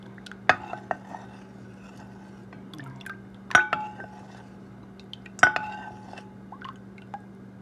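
Kutsinta rice cake mixture is stirred in a bowl before going into molds: a quiet, steady background with three sharp clinks of a utensil against the bowl, spaced a couple of seconds apart, plus a few faint taps. No one talks.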